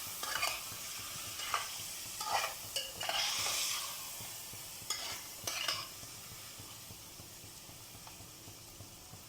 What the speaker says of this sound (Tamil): இது ஒரு 2 to 3 minutes ஃப்ரை ஆகட்டும் மசாலாவில்.